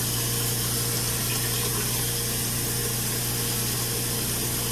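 Tap water runs steadily while a pet rat is bathed, a continuous close hiss and rush with a low hum beneath it and no talking.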